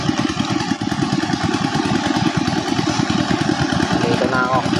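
A motorcycle engine runs steadily and loudly up close, a continuous low rumble throughout, with a brief voice near the end.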